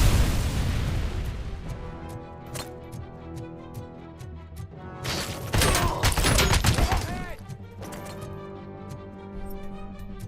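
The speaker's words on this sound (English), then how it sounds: "Throwing grenades at walls." Grenade explosions and gunfire in the first-person shooter RoboCop: Rogue City: sharp pops and bangs, then a dense burst of blasts midway, all over steady background game music.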